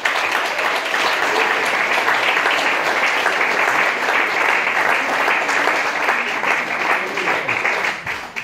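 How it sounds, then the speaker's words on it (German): At the BSL short film festival awards, a crowd gives sustained, even applause that stays loud and full throughout before tapering slightly at the end. "Das ist noch einmal ein Applaus wert."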